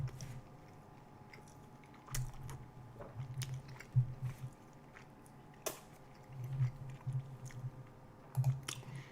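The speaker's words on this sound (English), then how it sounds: "I think that bite was mostly super chewy bread. I might be chewing on this one for a while" Soft, wet chewing of a mouthful of very chewy bread from a food challenge, a steady rhythm of close, squishy bites and jaw movements running throughout with no talking.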